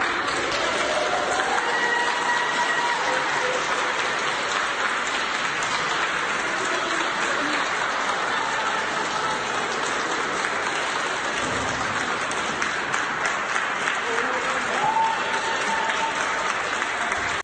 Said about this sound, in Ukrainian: працівники йому аплодують